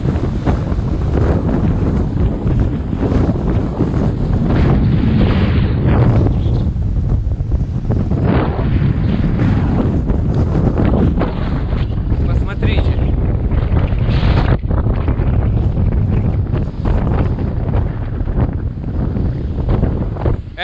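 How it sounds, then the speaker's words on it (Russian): Strong wind buffets the microphone with constant roaring gusts near wildfires in a village by Chernobyl, loud and continuous throughout, while faint water noise sits underneath. "Ребята, очень сильный ветер, вы посмотрите."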